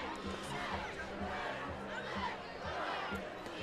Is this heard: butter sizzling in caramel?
no